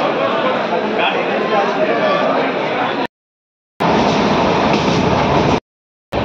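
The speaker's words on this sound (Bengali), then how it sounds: "অনেক অপেক্ষা করে আমরা ট্রেনে চেপে পড়ছি।" A passenger train boarded at a station, with a loud, dense rolling rumble and rattle broken by two abrupt silent cuts, and indistinct voices mixed into the noise.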